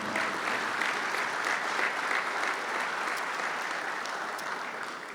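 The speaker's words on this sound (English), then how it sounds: "Why don't we give a round of applause to all of our supporters and donors?" An audience at a university athletics facility unveiling claps for supporters and donors, a full, continuous round of applause lasting about five seconds that fades gently toward the close.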